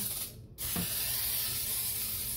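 A short burst of Pam cooking spray hisses out once into a nonstick pan, nearby, followed by a lingering faint hiss; no one speaks.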